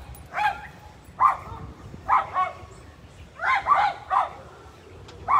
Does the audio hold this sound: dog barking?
yes